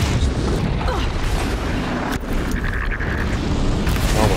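Constant roar of fire and explosions in the video game Horizon Zero Dawn, dense and loud throughout, with booming bursts and mechanical clanks layered over a continuous rumble.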